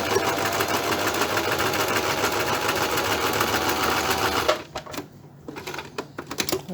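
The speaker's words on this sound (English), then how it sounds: "the presser foot pushes the lever forward, making the whole buttonhole start sewing" A sewing machine stitches a buttonhole with a fast, steady mechanical whirring that stops abruptly, followed by a few quiet clicks and knocks, close up and with no speech.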